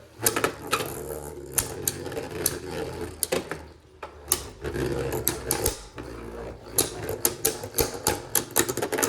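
Beyblade Burst spinning tops launched into a stadium, clashing in rapid rattling bursts of sharp clicks and scrapes, with a steady whirring hum between hits and a brief lull midway.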